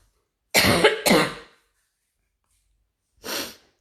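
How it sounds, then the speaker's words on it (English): A person coughs twice in quick succession, close and fairly loud, then pauses and gives one shorter cough or throat clear a moment later. "Sorry, I need to cough."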